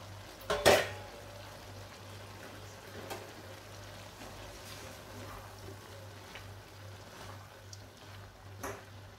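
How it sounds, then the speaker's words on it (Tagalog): Cabbage dropped into a frying pan with one loud clatter near the start, followed by faint scraping and stirring over a steady low hum, with a few soft knocks later. "Ilagay ko na ang mayroon pa tayo ditong cabbage."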